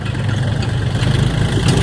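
A tractor engine running steadily while ploughing raised ridges for planting cassava in a field, a loud, close, low droning rumble that stays constant with no talking.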